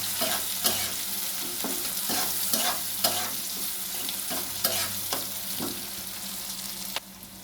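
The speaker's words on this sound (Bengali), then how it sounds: "ক্যাপসিকামগুলো ভাজবো নিয়ে" Capsicum fries in a pan, giving a continuous hiss of sizzling oil, with regular scraping knocks as it is stirred every half second or so.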